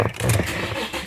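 An Infiniti G37 with its VQ V6 fires up and settles into a steady, close, throaty idle, heard only briefly.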